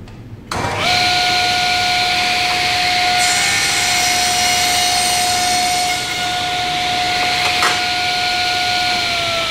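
Table saw starting up and spinning at a steady high whine while wood is pushed through the blade against a miter gauge in a wood shop, loud and close, with a brief cutting surge partway through.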